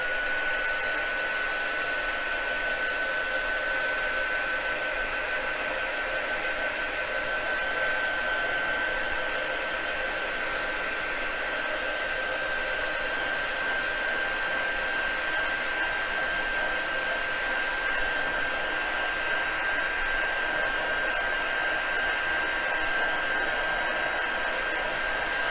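A hair dryer blows warm air onto a fur beard for a wine bottle gnome craft, a loud, steady, unbroken whoosh with a thin whine throughout and no talking.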